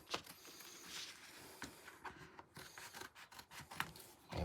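A large sheet of cardboard is cut with scissors in a garage workshop, giving quiet, irregular rasping snips and rubbing strokes close to the microphone, with no voices.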